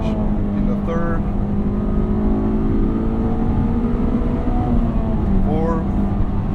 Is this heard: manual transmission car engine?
yes